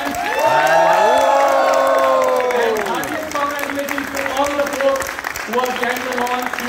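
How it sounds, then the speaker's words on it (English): A crowd at a product launch for a stock-broking platform cheers and applauds, with loud whoops and high shouts rising over the clapping, then easing to a steadier background of applause and voices. "let's hear one more round of applause for the product"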